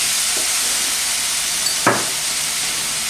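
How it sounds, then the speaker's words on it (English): Rice sautés with cumin in a hot pan, giving a steady close sizzle and hiss, with a couple of brief stirring scrapes and no talking. "we saute the rice little"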